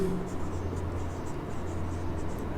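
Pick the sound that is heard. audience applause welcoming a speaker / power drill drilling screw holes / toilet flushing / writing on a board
writing on a board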